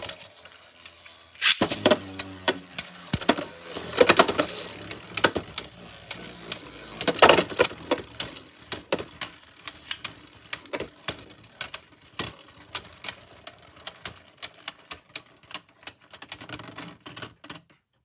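Beyblade tops Mirage Fafnir and Noctimus battle in a stadium with a burst of hard clattering collisions early on, then a long run of sharp rhythmic ticks and clicks as the spinning tops scrape and knock together.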